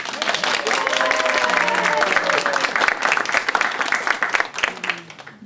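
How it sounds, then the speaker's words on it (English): An audience at a music showcase applauding and cheering after a stage bow, with dense, steady clapping and a few whoops that hold for several seconds before thinning out slightly. "And then the audience will cheer and applaud for you,"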